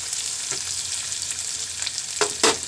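Chillies, fresh turmeric, lemongrass, coriander seeds and ginger sizzle in hot oil in a pan, a constant close frying hiss, with a few louder stirring scrapes near the end and no talk.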